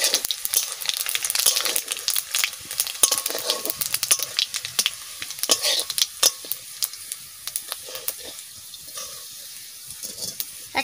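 Fish fries in oil in a kadai, giving a continuous close sizzle packed with dense crackling pops that thin out slightly toward the end, with no speech.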